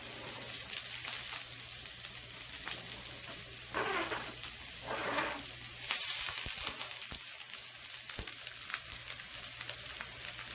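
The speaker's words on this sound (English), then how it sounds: "I'm just going to wait a few moments while the onions and the green peppers cook." Onions and orange and red peppers sizzle steadily in a hot pan, a continuous crackling fry with a couple of louder bursts as the vegetables are stirred, close and alone without talk.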